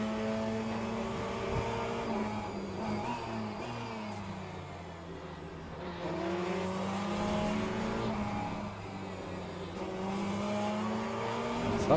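Lamborghini race car engine in a racing video game, a loud continuous rasping drone whose pitch climbs and drops with gear changes and a brief dip mid-clip, alone without talk.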